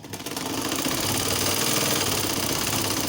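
A sewing machine runs steadily, stitching scrunchie fabric made from leftover material, with a fast, even mechanical whirring and rattle that starts up and holds at a constant close-up level for a few seconds.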